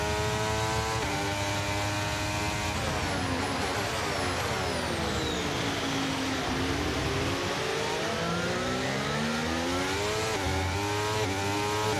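Formula 1 car engine in the F1 23 racing game at the Canadian Grand Prix, a high whining engine climbing and falling through gear changes for twelve seconds, steady and loud with no talk, a faint tire squeal near the start.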